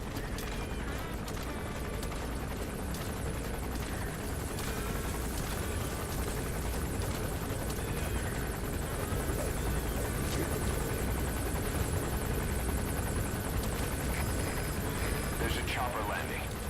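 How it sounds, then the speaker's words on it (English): A helicopter lands in Metal Gear Solid V: The Phantom Pain, its rotor and engine a steady, close chopping roar throughout, with voices in the background. "There's a chopper landing."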